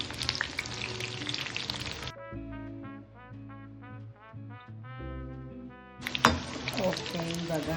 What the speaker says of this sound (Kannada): ಈ ಬಜ್ಜಿ ಬೋಂಡ ಎಲ್ಲ ಫ್ರೈ ಮಾಡ್ತೀರಲ್ಲ, ಆ ಥರ ಕಬಾಬ್ ಫ್ರೈ ಮಾಡಬೇಕು ಗೈಸ್.